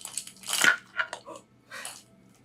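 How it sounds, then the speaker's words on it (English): Small Chihuahua dog whimpering and whining in short, high, crying-baby-like bursts indoors, several close cries with brief pauses between them and faint clatter of dishes in a kitchen. "Chihuahuas do kind of sound like little babies."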